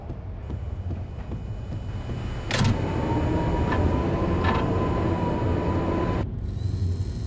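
A subway train in the Max Payne video game rumbles past with steady low-frequency roar, squeals and clanks. The noise swells around the middle and cuts off abruptly near the end. No voices are heard.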